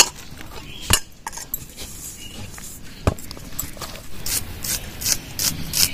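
A knife chops ingredients for kudri paratha in a home kitchen, producing a few sharp, close taps spaced irregularly, followed by a quicker run of chopping strokes.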